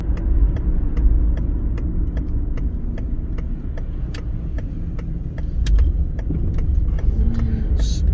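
A Citroen Berlingo Multispace drives on the road after an ABS sensor repair, its engine giving a steady low rumble from inside the cabin, with regular light ticks and clicks over the drone and no one talking.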